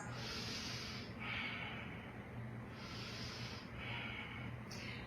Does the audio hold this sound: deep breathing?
yes